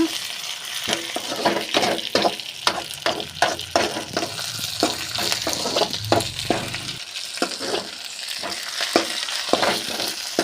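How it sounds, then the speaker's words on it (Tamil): Drumstick leaves fry in oil for a chutney, turned over with rapid, rhythmic spatula scrapes and taps against the pan under a constant close-up sizzle. "நல்லா பெரட்டி விட்டு நல்லா எண்ணெயில் வணக்கலாம்பா"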